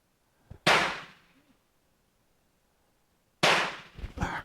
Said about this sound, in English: Okay, I'm going to shoot the top target.